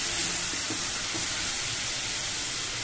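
Tomato gravy curry with bandakaya frying in a pan over a medium flame, a steady soft broadband hiss and sizzle with faint scattered crackles throughout, no voices.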